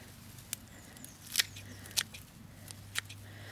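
Pruning shears snip through lavender stems in a garden, giving a handful of crisp, close cuts spaced irregularly over a quiet background.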